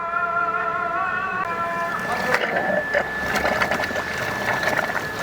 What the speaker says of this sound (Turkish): Makineyi araca bağladık. Petek temizliğimiz başlıyor.